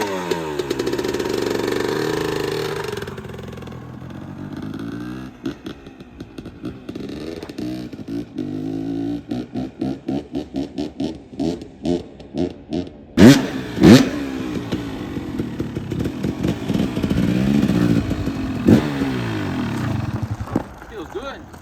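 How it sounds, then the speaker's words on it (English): A dirt bike with a newly installed Rekluse TorqDrive clutch and Blais clutch weights starts up and revs in loud, rising bursts, settling into a steady running engine, with people talking over part of it. "I'm gonna go start the bike, ride it around, make sure everything feels good"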